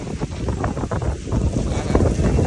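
Strong gusts of wind roar and buffet the microphone in a continuous rumbling rush, with brief thumps and flutters and a distant voice now and then under the noise.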